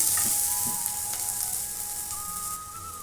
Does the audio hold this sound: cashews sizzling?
yes